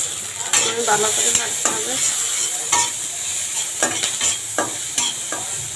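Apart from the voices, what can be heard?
onions and green chilies frying and being stirred in pan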